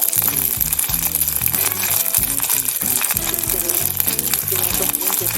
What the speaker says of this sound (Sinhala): ටෙම්පරාදු කරගන්නවා.